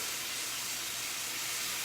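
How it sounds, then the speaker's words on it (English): A steady, bright hissing sizzle of sauce cooking on a hot skewer, continuous and fairly soft throughout, with no voices. "you can hear the nice sizzle"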